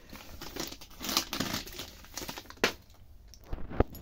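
Tightly glued coin collection sachets are torn and crinkled open up close, producing scattered rustling and crinkling bursts with a few sharp snaps, and no talk over them.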